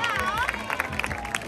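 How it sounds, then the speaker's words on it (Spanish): Audience applause and cheering at PortAventura's Christmas Shrek and Fiona stage show, a short burst of dense clapping mixed with crowd babble and a voice talking over it. "Y otro fuerte aplauso para Fiona"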